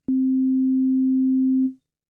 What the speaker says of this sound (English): You can hear the basic sine waveform.